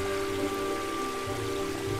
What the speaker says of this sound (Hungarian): És itt csorog a víz.